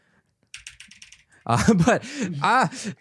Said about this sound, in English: I'm sorry if you hear a quiet clicking in the background